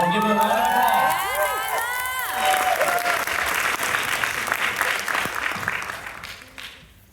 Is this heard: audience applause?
yes